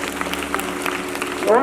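Crowd clapping at an Independence Day flag-hoisting ceremony at an inter college, a steady broadband patter of many hands with a sustained tone underneath and a voice rising near the end.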